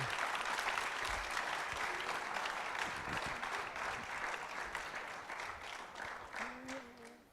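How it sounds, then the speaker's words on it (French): Sustained applause from an audience greeting research award winners at a partnership prize ceremony, dense steady clapping throughout that thins slightly toward the end with a brief voice cutting in. "On peut vous applaudir très fort."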